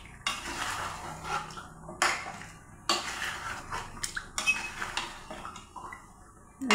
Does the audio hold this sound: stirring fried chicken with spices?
yes